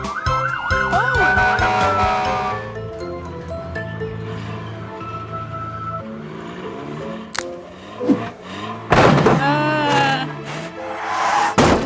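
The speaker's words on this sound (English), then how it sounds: "Maybe something like that will work with the siren." A cartoon truck's siren wails in rising and falling sweeps over animated background music, loud and close, with sharp effects and a few brief bursts of noise near the end.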